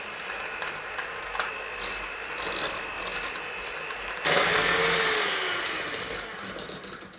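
Electric beaters whir steadily while creaming butter and sugar for gingerbread, a continuous motorised drone that grows louder and harsher as they dig in, then slowly eases.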